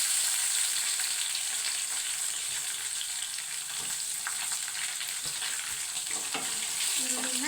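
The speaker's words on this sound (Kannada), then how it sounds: "ಈರುಳ್ಳಿನ ಚೆನ್ನಾಗಿ ಫ್ರೈ ಮಾಡ್ಕೋಬೇಕು ಎಣ್ಣೆಗ ಫ್ರೆಂಡ್ಸ್." Onions frying in hot oil in a pan, a steady close sizzle with occasional stirring scrapes and light clicks, no voices.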